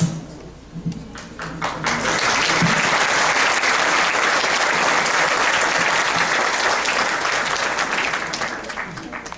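Sustained audience applause for a speaker at a symposium on organized crime, dense and steady clapping that swells within the first seconds and holds loud throughout, with a few murmuring voices underneath.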